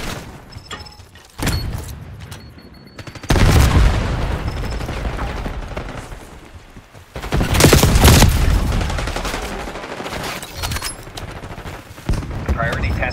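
Sudden concussion-grenade blasts and gunfire in Call of Duty: Black Ops 6 multiplayer, with loud booming bursts and sustained rattling fire rising and falling under intermittent game voice callouts.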